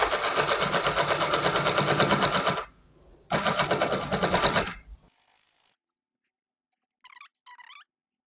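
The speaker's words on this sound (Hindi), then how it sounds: "इलास्टिक को पीछे की तरफ करते हुए आप कपड़े के किनारे पे सिलाई लगाएंगे।" A sewing machine stitching elastic onto the edge of trouser fabric runs in a fast, steady rattling whir for about two and a half seconds, pauses briefly, then runs again before stopping; faint speech follows near the end.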